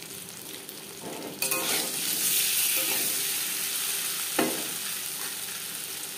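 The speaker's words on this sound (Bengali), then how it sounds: "ডিম ভাজা হয়ে গেছে," Duck eggs fry in a pan with a steady, close sizzle and hiss, broken by the scrape of stirring and one sharp clink partway through.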